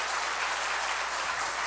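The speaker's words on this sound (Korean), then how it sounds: "그럼 박수 한번 보내주세요." A church audience claps together in a brief, thick wash of applause, continuous and even in loudness from start to finish.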